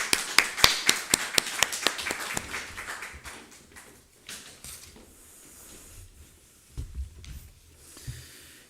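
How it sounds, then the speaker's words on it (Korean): Congregation clapping in praise during a Sunday daytime church worship service: a burst of sharp, fairly close claps for about three seconds that thins out and fades, leaving quiet room noise. "우리 주님께 감사와 영광의 큰 박수를 올려드리시겠습니다."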